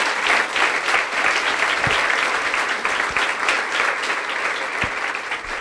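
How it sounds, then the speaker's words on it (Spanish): Loud, sustained applause from a church congregation at a Spanish-language service, a dense continuous roar of many hands with no talking over it. "¿Cuántos pueden darle un aplauso fuerte al Señor?"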